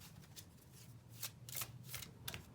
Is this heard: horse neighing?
no